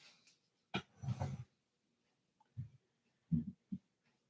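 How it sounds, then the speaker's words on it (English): A sleeping dog snoring indoors, a few low, rough snorts and breaths separated by quiet pauses, faint and close. "You hear this damn dog?"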